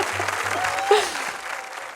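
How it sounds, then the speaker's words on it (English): Brief audience applause, a short burst of clapping that blends with a faint voice and quickly fades under room noise. "Can we put some applause"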